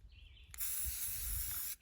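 Spray paint can spraying paint onto rocks outdoors, a steady loud hiss lasting over a second after a brief puff, with faint wind noise and a thin whistle before it.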